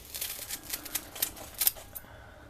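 Fresh chives are snipped in quick succession, a rapid series of light, crisp cutting clicks heard close up and fairly faint, ending in a brief lull.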